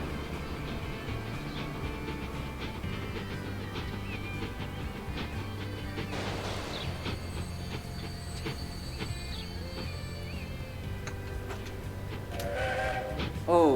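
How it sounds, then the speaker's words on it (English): Steam locomotive whistle in Transport Fever 2, a British engine, sounding near the end over a steady rumble of rolling train and game ambience. "Oh, nice whistle sound"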